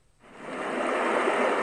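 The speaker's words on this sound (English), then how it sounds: "Playing waterfall sounds on Google Play Music." Waterfall sounds playing from a Google Home smart speaker in a master bedroom: a steady broadband rush of falling water that fades in after a brief silence and then holds loud and constant, with no voices.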